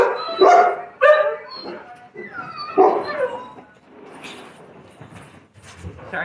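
Several dogs bark loudly and close by in short bursts, mixed with yips and whimpers, the barking fading into softer noises toward the end.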